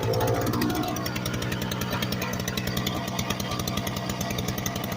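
A small snow blower engine idling steadily right after a choke-and-key start, close by, with a fast, even, rattling putter and no talking.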